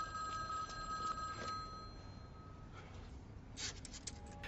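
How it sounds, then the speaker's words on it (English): A telephone rings in the background of a subway station in a film, a few faint, thin ringing bursts over a low hum with no talking. "where a phone rings in the background"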